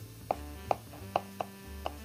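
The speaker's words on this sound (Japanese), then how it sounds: "次、千切りしていきます。" Kitchen knife julienne-cutting vegetables on a cutting board while making a simple mock pepper steak stir-fry, five crisp evenly spaced knocks against the board, close and clear with no talking.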